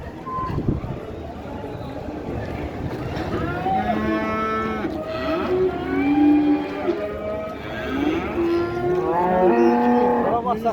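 Cattle, including young heifers, moo at a livestock market in Khachmaz: several long, loud bellowing moos overlap one another, with people talking and market noise underneath.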